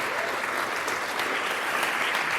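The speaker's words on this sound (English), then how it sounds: "Please, let's clap." An audience at a Bitcoin unconference in Kenya claps steadily, a dense, even round of applause in a room with no voices over it.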